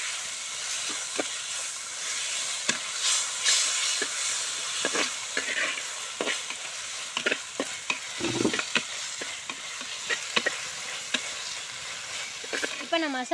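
Onions and tomatoes frying in a pan for a quail fry, with steady sizzling and repeated stirring scrapes and clinks running throughout, close and moderately loud.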